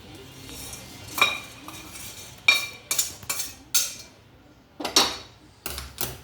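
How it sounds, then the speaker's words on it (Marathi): Roasted reddish chana dal being scooped out of a pan while making chakli bhajani flour, heard as scattered metal-on-metal scrapes and clinks of a spoon against the pan, close and fairly quiet, with no talk. "तर ही डाळ मी काढून घेणार."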